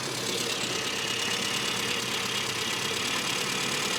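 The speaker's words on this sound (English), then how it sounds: "And hear the idle pick up" A classic Mini engine idles after carburettor tuning, a loud, steady, close mechanical drone that runs unbroken with a slightly rough, busy texture and no voices.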